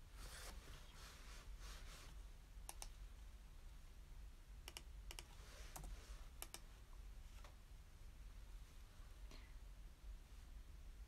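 Computer keyboard typing in a quiet room: soft, irregular keystroke clicks arriving in small bursts and pauses over a faint background hiss.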